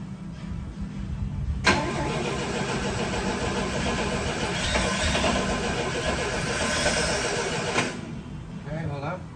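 A 1963 GMC Suburban panel truck, a barn find, cranks over loudly and up close for about six seconds with a steady churning rhythm, then cuts off, with voices nearby.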